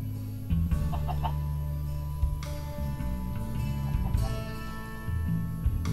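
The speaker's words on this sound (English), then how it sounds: "Like an infestation of chickens." Minecraft chickens cluck in short bursts over a steady droning background, the clucks fairly close and mixed with an electronic hum.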